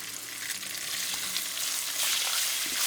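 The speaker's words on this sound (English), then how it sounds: "That onion will cause the pan to deglaze" Onion fries in a hot pan for wild boar gravy, sizzling with a steady crackling hiss that is close and continuous, with a few scraping stirs and a louder burst toward the end.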